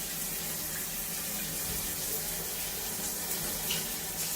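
A rain shower head in a cheap Bangkok hotel bathroom runs steadily, giving a broad even hiss of falling water throughout with no speech.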